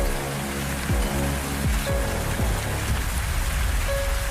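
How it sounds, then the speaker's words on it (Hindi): Heavy monsoon rain pours down in Lucknow, a loud, dense, close hiss of water that stays constant throughout, with a few low rumbling thuds early on. "बादल गरज भी रहे हैं और जोरदार तरीके से बरस भी रहे हैं"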